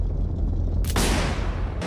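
A single heavy cannon blast in the Garry's Mod DarkRP game, a sudden loud boom that cuts in over a constant rumbling battle din and then sustains a long noisy roar.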